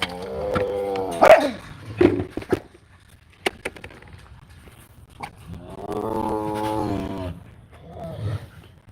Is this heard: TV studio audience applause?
no